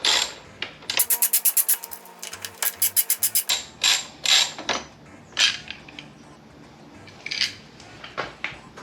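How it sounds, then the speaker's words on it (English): Large socket wrench with a Torx T40 bit removing a motorcycle passenger footrest, rapid bursts of ratcheting clicks repeated in short strokes with brief pauses, close and clear with no talking. "I stuck this on my extremely large socket wrench. Probably not necessary, but we'll just remove them."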